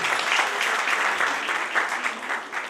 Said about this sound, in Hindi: तो जोरदार तालियां एक बार इन लोगों के लिए।